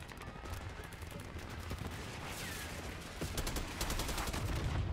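Rapid bursts of automatic gunfire and single shots from Call of Duty Black Ops 6, sustained and dense across the whole stretch, growing slightly louder toward the end, with battlefield clutter underneath.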